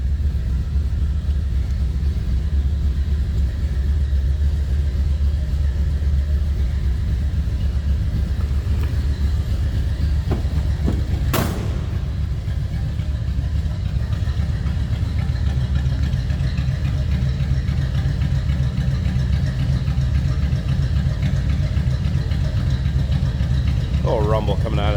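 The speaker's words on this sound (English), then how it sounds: "Little rumble coming out of that V8." The 302 V8 of a 1968 Mercury Montego MX convertible idles with a steady, deep low rumble throughout, with someone talking over it at times.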